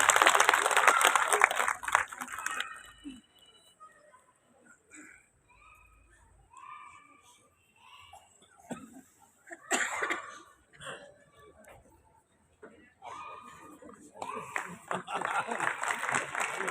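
Applause at a Shri Chitragupta Sabha new-committee swearing-in ceremony, greeting former president Girish Nath Mathur: a burst of crowd clapping at the start, then someone speaking, with a second swell of clapping building at the end.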